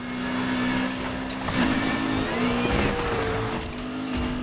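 A BMW M4 with straight cut gears in Need for Speed Heat drones at steady high revs with a whining gear tone, pitch dipping and climbing through shifts, loud and close.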